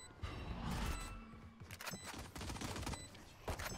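Rapid gunfire bursts from the video game Valorant, crackling in quick overlapping volleys over a steady background, with faint mechanical clicks between shots.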